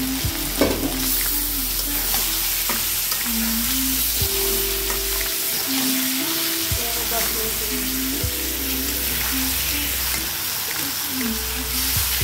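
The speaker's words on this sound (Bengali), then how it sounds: "এবার দিয়ে দেব ধুয়ে কুটে রাখা ঝরা দেওয়া মাংসগুলো।" Washed, chopped meat fries in hot oil with spices, a loud continuous sizzle with repeated stirring scrapes of a spatula against the pan, close by, with no voices.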